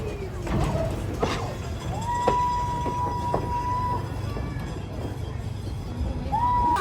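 Percy, a Thomas the Tank Engine themed train, pulling old carriages, a steady rolling rumble with wheel clatter, a long whistle tone and squeals, while a person talks briefly.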